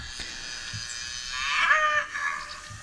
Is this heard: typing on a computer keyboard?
no